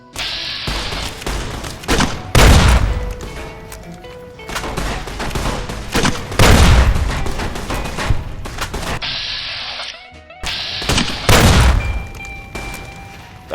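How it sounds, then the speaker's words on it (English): Repeated grenade rifle grenade explosions in Fallout: New Vegas, heavy booming blasts mixed with bursts of gunfire, several loud detonations spaced a few seconds apart with debris and crackle between them. "Mercenary grenade rifle grenade."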